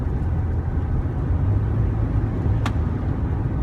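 Steady low road rumble inside a 2015 Ford F-150 XLT pickup cruising at speed, a constant broadband drone with no talk.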